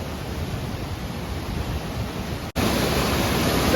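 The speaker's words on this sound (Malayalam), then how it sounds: "ഇവിടെ വെള്ളത്തിന് കരിപ്പായിട്ട് ഒഴുകിക്കൊണ്ടിരിക്കുകയാണ്" A river in monsoon flow near Kallarkutty dam in Idukki, a strong, steady broadband rush of water, loud and close, with a brief cut partway through before the roar resumes.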